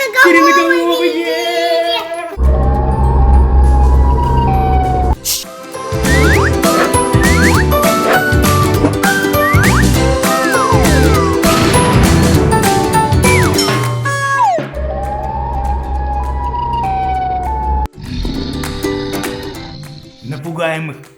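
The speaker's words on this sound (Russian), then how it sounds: "Звуки сирен." Siren wails in an animated story about Siren Head creatures in a forest, rising and falling tones sounding amid chiming effects and excited speech, loud in the middle before fading into sparser tones.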